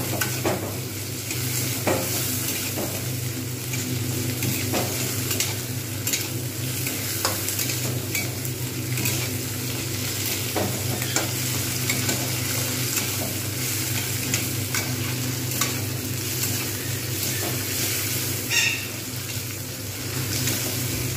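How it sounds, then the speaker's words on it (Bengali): Onions frying in oil in a pan until browned give a steady, even sizzle that holds for a long stretch, with occasional soft stirring scrapes and no talking. "পেঁয়াজগুলোকে আমি সুন্দরভাবে লাল করে ভেজে নেব"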